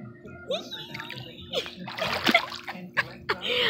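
Water splashes and sloshes in a swimming pool as someone climbs in, with a cluster of irregular splashes and trickles, some loud and close, mixed with a voice.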